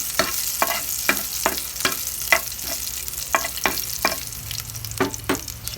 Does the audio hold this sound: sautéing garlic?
yes